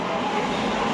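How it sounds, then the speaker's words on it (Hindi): A train pulling into a station in Kuala Lumpur, a steady broadband rumble and rolling hum, fairly loud and continuous throughout with no distinct clanks or voices standing out. "और ट्रेन आई है उस साइड से, दूसरी साइड पे ट्रेन है"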